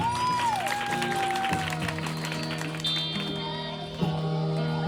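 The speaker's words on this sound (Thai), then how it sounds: "ขอเสียงปรบมือเลยครับ" Wedding guests applaud the bride's entrance at a Thai wedding, a steady wash of clapping running under sustained music tones throughout.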